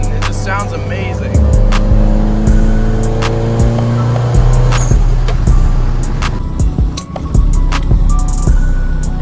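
A Ford Focus ST engine runs close by with a steady, loud drone and revs that rise in pitch, mixed with sharp clicks and road noise as it drives.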